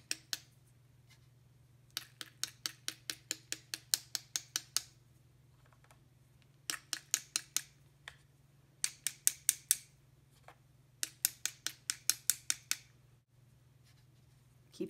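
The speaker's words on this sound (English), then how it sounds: "we're going to hit our paintbrush on our pencil to make splatter." A paintbrush tapped against a pencil to splatter paint, heard as quick runs of sharp, light clicks in rhythmic bursts separated by pauses, close by over a faint steady hum.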